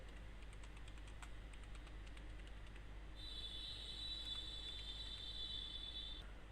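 Quiet keystrokes tap out a short narration on a computer keyboard in Tally ERP 9 accounting software, with irregular light clicks near the mic and a steady high electronic whine joining halfway through.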